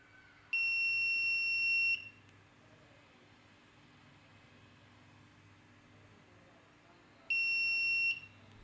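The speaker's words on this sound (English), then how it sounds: "turn on the buzzer, else turn off the buzzer" A piercing electronic buzzer tone from an Arduino force-sensor circuit sounds twice, each burst lasting over a second with a long quiet gap between, over a low steady hum.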